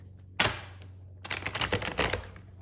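Crisp riffling and shuffling of cards in two bursts, a brief flurry followed by a longer series of rapid papery flicks, close up with no talking.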